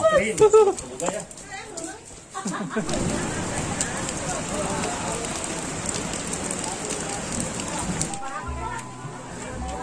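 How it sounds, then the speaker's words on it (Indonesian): Steady rain pours down for most of the stretch, a dense hiss over a surface, with people talking briefly at the start and again near the end. "Hujan-hujanan tuh."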